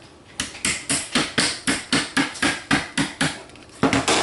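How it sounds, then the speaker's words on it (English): A hammer taps a thin tin magazine retaining ring flush on a Remington or Mossberg 12-gauge shotgun, about fourteen sharp evenly spaced metallic taps in quick succession, close and alone. "And then we're going to grab our hammer."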